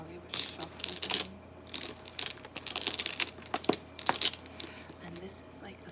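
Small travel-set mahjong tiles being shuffled, a run of clattering plastic clicks and knocks in uneven bursts, close and fairly soft, with a faint voice in the background.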